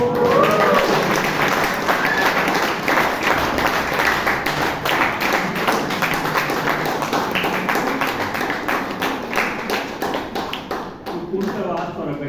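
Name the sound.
applause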